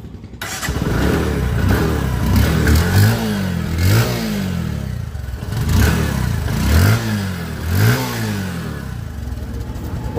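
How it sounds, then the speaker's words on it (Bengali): A Bajaj Discover 125 motorcycle engine, a used bike, idles and is revved repeatedly, with about five rising and falling throttle blips over a steady nearby idle and no talking. "গাড়ির একটা সাউন্ড শুনে আপনাদের দেখাবো।"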